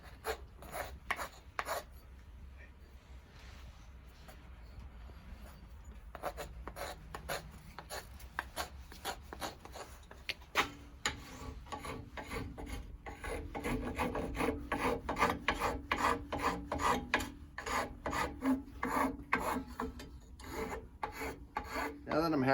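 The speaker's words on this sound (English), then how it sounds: "4-in-1 rasp. It's going to work a little bit better than the original one I started with." A 4-in-1 rasp files a wooden heart Christmas ornament with dense, rhythmic scraping strokes close by, growing steadier and louder in the second half, with no voices.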